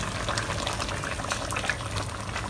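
Shallot-frying oil is stirred into a pot of simmering oyster mee sua noodles, giving a dense, even bubbling and hissing that stays close and constant through the short stretch, with no speech.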